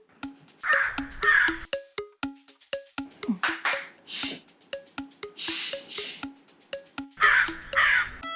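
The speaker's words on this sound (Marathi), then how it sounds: "हा किती इरिटेट करतोय तो कावळा" A crow caws repeatedly, close and insistent, in short harsh bursts grouped in runs with brief pauses, against a quiet background.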